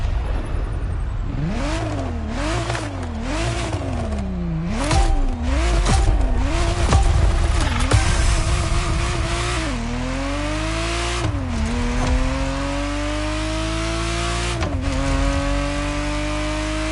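A Ferrari Testarossa engine in The Crew Motorfest revs hard and close, climbing and dropping through quick gear shifts, then settling into longer, rising pulls at high rpm.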